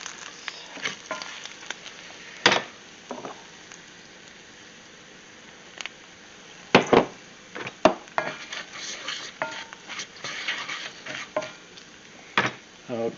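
A spoon scrapes and clinks against a pan while flour is stirred into softly sizzling grease for a roux, with irregular stirring taps and knocks.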